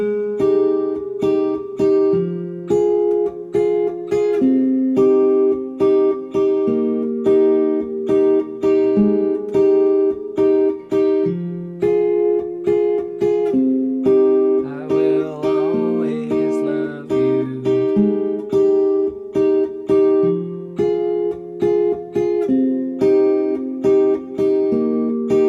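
Fingerpicked acoustic guitar plays the chorus of a song alone, steady plucked notes and chords in a lively rhythm, close and clear throughout.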